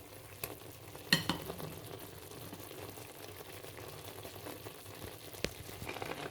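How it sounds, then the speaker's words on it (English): Vegetables go into a hot frying pan for a Chinese beef sauce, giving a soft steady sizzle with a few clattering knocks of a utensil, close and fairly quiet, without talk. "So these are the vegetables. I have to put them."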